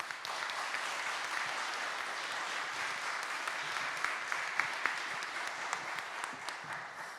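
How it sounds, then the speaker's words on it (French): Audience applause fills a meeting hall at a francophone weather enthusiasts' association meetup, a steady dense clapping that holds at even volume for several seconds with a few sharper individual claps standing out. "on peut également l'applaudir pour son travail"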